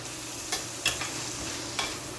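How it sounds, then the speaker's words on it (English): Salt mackerel frying in a hot pan for Jamaican run down, a steady low sizzle with a few brief stirring clatters, no voices. "we're just gonna let this fry up a little, maybe for a minute or so"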